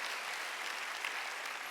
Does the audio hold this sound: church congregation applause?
yes